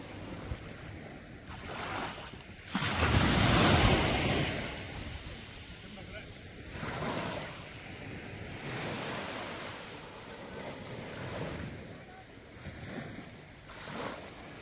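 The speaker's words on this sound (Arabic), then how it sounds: "وتستمتعوا بصوت البحر" Sea waves wash onto the beach at Marsa Matruh, Egypt, in a steady surf roar with one louder surge early on and wind buffeting the microphone throughout.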